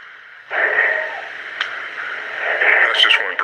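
Heavy, raspy breathing recorded in 1972 close to a shelter and said to come from a Bigfoot plays back with a thin, radio-like tone. The sustained wheezing swells and fades without pause.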